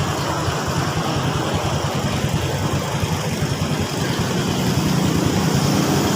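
A Honda XRM110 motorcycle engine idles nearby, a steady, close putter with an even low rumble that barely changes over a few seconds.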